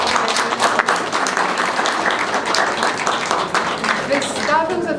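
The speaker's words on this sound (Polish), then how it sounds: "wielkie brawa" Audience applause at the closing ceremony of a ceramics and faience exhibition in Włocławek, steady dense clapping throughout with some voices mixed in, ending as a few sustained tones rise near the end.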